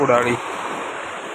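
The Kudali river, a tributary that joins the Krishna, gives off a steady broadband rush of flowing water after a brief murmur of voice at the start.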